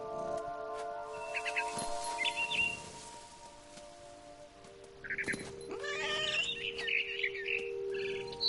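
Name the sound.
barn swallow chirping in What Remains of Edith Finch video game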